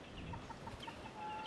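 Young chicks in a poultry house of Oriental hatch birds, giving soft, faint clucks and peeps spaced through a short, quiet stretch.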